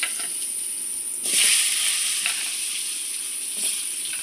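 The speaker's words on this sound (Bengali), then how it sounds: "মাছ ভাজা তেলের মধ্যেই আলুগুলো ভেজে দেব।" Potatoes frying in oil left over from frying fish, a strong steady hiss that swells sharply as they go in, with a few soft stirring scrapes and no talking.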